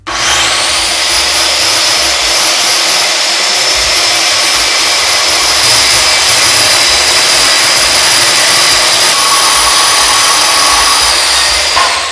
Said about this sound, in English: I use a circular saw to cut the lumber.